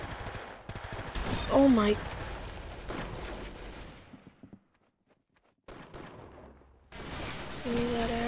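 Rapid BB gun fire in the Roblox shooter Arsenal crackles in bursts, cutting out into near silence midway before resuming, with a player's voice exclaiming over the shots.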